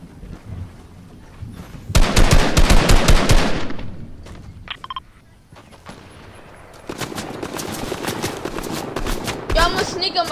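Rapid automatic gunfire from the video game Fortnite, loud bursts of fast repeated shots in the opening seconds, then a lull and another stretch of dense, continuous firing and game noise, with players talking over it.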